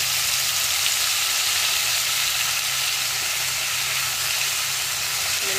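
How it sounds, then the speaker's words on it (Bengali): Tomato and ginger paste frying with fried potatoes in a pan gives a steady, dense sizzle and hiss that runs unbroken and fairly loud with no talk. "এখন এর মধ্যে টমেটো আর আদা বাটাটা এই দুটো দিয়ে দিচ্ছি।"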